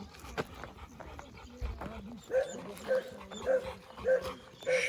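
Village dogs on a hunt bark repeatedly in a steady series of sharp barks, after some earlier whimpering and outdoor movement, at moderate distance with a faint voice.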